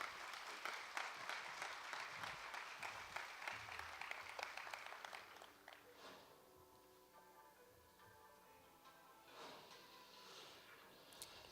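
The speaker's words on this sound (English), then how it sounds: "everybody give Sutton King a big round of applause as we welcome her to the stage" Applause at a tribal public health conference as a speaker is welcomed to the stage, a steady crowd clapping for about five seconds that fades, leaving faint room noise and quiet movement.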